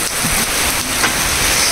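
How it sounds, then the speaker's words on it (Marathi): Heavy rain pours steadily on the coast at Achara in Konkan, a dense, continuous roar of drops beating on surfaces close by, with no voices. "जोरात येलो पाऊस आणि हालत बेकार"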